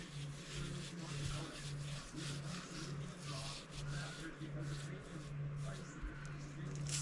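Hands rub seasoning into a brisket with soft, repeated scuffing strokes, faint and close, while a low steady hum runs underneath and a voice speaks quietly.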